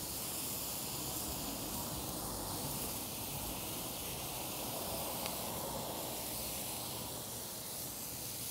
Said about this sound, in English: To get them in that fat so they get a nice fry on them.